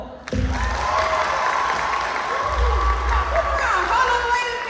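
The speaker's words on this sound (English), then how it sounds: "Give everybody a round of applause." An audience at a student debate claps and cheers in a sustained burst that sets in suddenly and stays strong, with a little talk mixed in.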